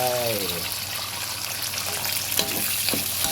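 Pork meatball fried rice stir-frying in a pan, a loud, steady sizzle with scraping stir strokes close by, a brief voice at the very start.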